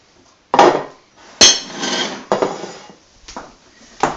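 A few separate clanks and scrapes as a pot is lifted and shifted off a hot stove while making tuna mornay, sharp metallic knocks with short clattering tails, close and clear, no talking.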